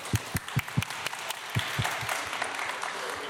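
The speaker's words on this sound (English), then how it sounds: "So a round of applause for you" Applause for a panel at an open data forum: a few distinct hand claps up close over a softer, distant patter of audience clapping that thins out, fairly quiet overall.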